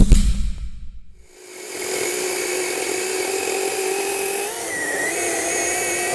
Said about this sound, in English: I've never had a battery powered chainsaw that could do that.